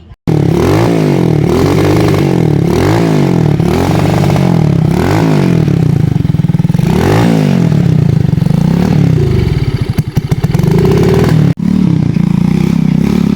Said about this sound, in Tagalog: mao ni andar na yang motor